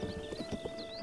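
A horse in Zelda Breath of the Wild, with soft irregular hoof clops close by over a faint steady game hum.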